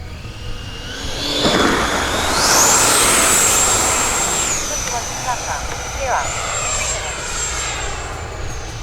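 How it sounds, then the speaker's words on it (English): An E-flite F-16 80mm electric ducted-fan RC jet screams past loud and close, its whine rising to a high sustained pitch, then settling and swelling again as it flies by in a continuous roar. "Just an amazing flying jet."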